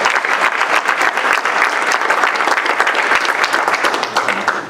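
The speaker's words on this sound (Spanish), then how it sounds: "Dale un fuerte aplauso al Señor Jesucristo." A church congregation bursts into strong, close applause for Jesus Christ before Father Bernardo Moncada's talk on spiritual growth, with brisk, continuous clapping filling the whole stretch.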